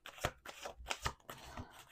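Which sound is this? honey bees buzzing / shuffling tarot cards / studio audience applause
shuffling tarot cards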